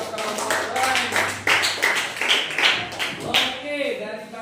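A classroom group of schoolchildren claps at the teacher's request, producing brisk, uneven applause that stays close and fairly loud for a few seconds, with chatter mixed in.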